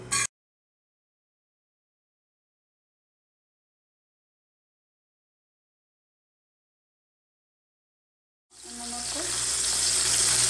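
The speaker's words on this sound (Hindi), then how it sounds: "फिर इसमें हम चिकन रख देंगे" Chicken legs hit a pan of hot oil, five to six spoonfuls, over a lit flame, bursting into a loud, dense sizzle and crackle after a long silence with only a brief click at the start.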